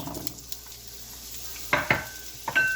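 Carrots tipped into hot olive oil in a pan, giving a soft steady sizzle, followed by a few sharp close scrapes and clinks as a utensil stirs them against the pan.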